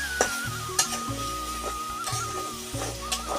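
Khola greens with ground ginger, cumin, turmeric and a little water are turned in a pan, producing a rhythmic series of close spatula scrapes and knocks over a gentle sizzle.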